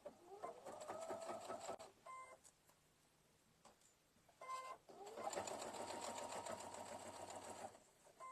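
A sewing machine stitches an appliqué onto a towel in two steady, fast bursts with a brief pause between them, close and fairly quiet.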